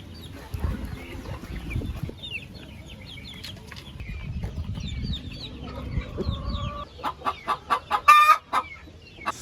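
Chickens cluck and chatter close by, with a run of short, louder bursts near the end, amid background noise.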